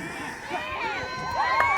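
A crowd at a Sharman Cup rugby league match between Bay Roskill and ECB reacts to heavy contact with overlapping shouts and cheers. The sound is distant and continuous, and a commentator talks over it.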